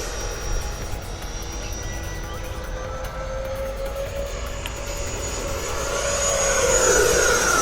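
An FMS Super Scorpion 90mm RC jet plane flies overhead with a continuous high electric ducted-fan whine. The sound swells steadily louder toward the end as the jet pulls up and passes closer.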